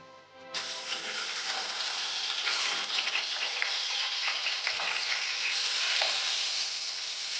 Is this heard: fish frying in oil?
yes